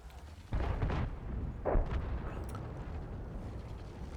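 Two heavy booming shots from tank cannons firing HE shells in World of Tanks, one at the start and another about a second later, each rolling out into a long rumbling tail with no talk over them.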